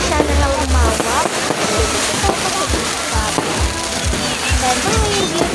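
Repeated booming fireworks bursts with crackling, popping up close, layered over a busy outdoor din and people talking and shouting.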